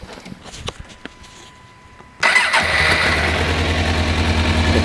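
A 2003 Suzuki GSXR 600 Alstare Limited Edition, garage-stored for years and missing on one cylinder, sits quietly with faint clicks before its engine starts abruptly and settles into a loud, close, slightly uneven idle.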